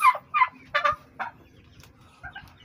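A young male turkey, four and a half months old, gobbles in several quick, close bursts that fade into quieter, scattered calls near the end, with no talk.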